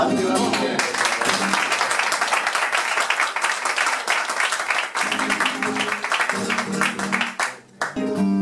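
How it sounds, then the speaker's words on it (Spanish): A flamenco audience in Spain applauds a guitarist named David with dense, continuous clapping for several seconds, a faint tonal layer underneath, before the applause thins and breaks off near the end. "Yo pediría un aplauso para él"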